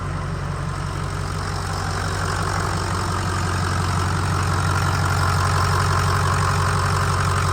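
A Ford 6.0 Powerstroke diesel truck engine idles loud and steady after a transmission install, with a deep, rough, even rumble that holds for the whole stretch without any rev.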